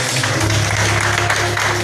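Church congregation clapping for Jesus during a live-streamed service, a dense continuous wash of applause with steady music or hum beneath, loud and unbroken.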